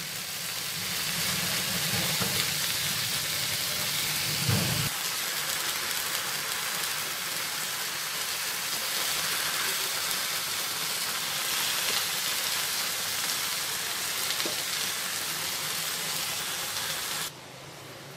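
Ponnaganti greens cook in a hot tempering pan with a steady, close, loud sizzle and hiss that persists throughout, with a brief clatter early on before the sound drops slightly at the end.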